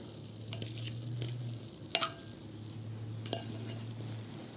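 Food is stirred in a sizzling frying pan, with soft steady frying and a few sharp utensil scrapes and taps against the pan, close and fairly quiet.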